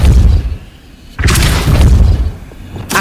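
A Depulso spell blast in the Hogwarts Legacy video game lands as a sudden loud boom with a crackling, shattering burst, following a rumbling stretch and ending with another sharp hit.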